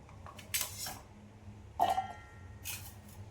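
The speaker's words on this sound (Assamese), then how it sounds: "মই গাজৰ সৰু সৰুকৈ এনেকৈ কাটি লৈছোঁ" A knife chops carrots into small pieces on a cutting board, three separate clacking strokes spaced about a second apart over a quiet kitchen background, close and moderately loud, with no talk.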